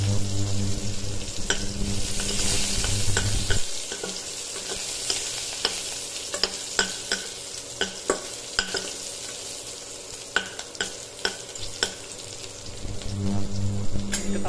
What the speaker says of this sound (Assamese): নহৰু ইয়াত পিঁয়াজ নিদিওঁ মই আৰু এটা কেঁচা জলকীয়া তেলতেই দিলোঁ